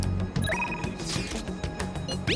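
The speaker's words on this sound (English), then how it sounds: "I need to check the phone for Mishima calls" A telephone rings in the video game Persona 5, a synthetic ringing tone sounding repeatedly over a busy layer of game music and effects.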